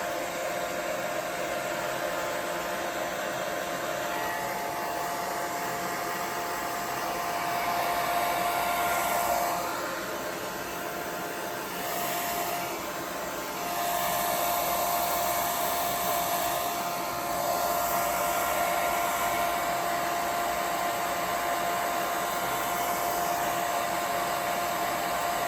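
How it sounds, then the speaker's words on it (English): Hair dryer blowing steadily over a paper mâché relief decoration, a continuous close airy roar with slight swells as it moves, running alone throughout. "I'm just going to quickly hit that with the hair dryer"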